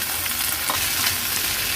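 Chopped snake gourd drops into a hot tempering of oil and curry leaves, setting off a loud, close, continuous hissing sizzle that fills the short moment with no talking.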